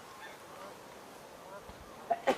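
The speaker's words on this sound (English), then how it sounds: "We can hear geese." Two distant wild goose honks come near the end, over a faint outdoor hush.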